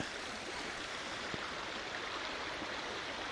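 A river flows nearby in woodland, a steady broadband rushing of moving water that holds constant at moderate level, with no voices over it.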